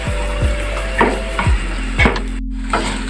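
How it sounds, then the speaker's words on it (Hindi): Chicken pieces frying in a pan, a steady sizzle under a low hum, broken by several sharp scraping stirs of a utensil against the pan at intervals. "चिकन हमारी फ्राई हो रही है"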